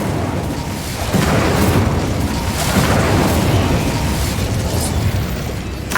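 Incendio fire spell cast in Hogwarts Legacy, a sustained loud roaring burst of flame that swells after a second and holds steady, dense and close throughout.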